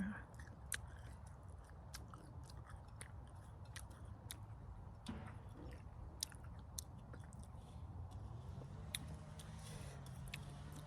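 Crisp fresh green apple picked in Sweden, bitten and chewed up close, with sharp crunchy snaps at irregular intervals over soft chewing and quiet outdoor background, with no talking.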